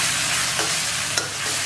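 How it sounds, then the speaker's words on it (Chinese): Sauce stir-fried in a wok over hot oil with ginger and garlic, a steady close sizzle with a couple of brief spatula scrapes, no voices. "给它汤汁炒香"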